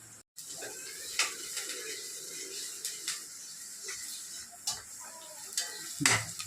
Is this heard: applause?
no